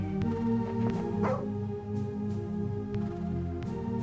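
A dog barks a few times in the retro role-playing game SKALD: Against the Black Priory, set near an old hedge maze, the barks and yips rising over a steady layered game soundtrack.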